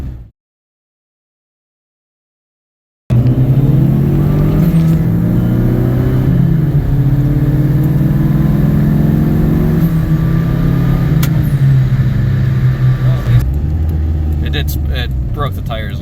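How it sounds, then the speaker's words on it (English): Turbocharged Dodge SRT-4 with a manual gearbox accelerating hard, a loud steady engine drone building through the gears, with a sharp blow-off valve release near the end after a brief silent start. "it makes a lot better sounds, but a lot of that is just because of the blow-off valve"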